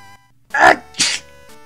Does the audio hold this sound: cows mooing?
no